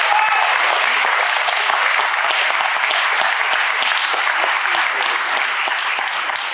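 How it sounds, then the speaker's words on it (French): An audience in a hall claps steadily for Michel at a football club's centenary celebration, dense, sustained applause filling the room at an even level throughout. "On peut l'applaudir encore"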